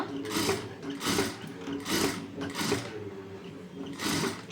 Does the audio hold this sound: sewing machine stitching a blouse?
yes